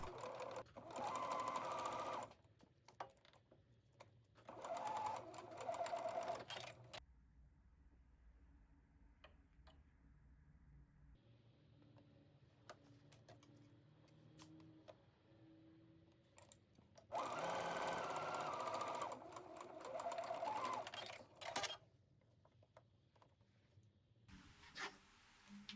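Sewing machine stitching fitted skirt pieces from inner to outer corner, running in two long bursts with quieter handling and clicking between, close and clear with no talking.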